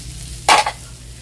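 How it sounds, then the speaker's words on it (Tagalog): Egg with tomato and cabbage hits hot oil in a pan, giving one short loud sizzle burst that quickly dies to a low background hum, with no talking. "Prito na initlugan kinamatisan."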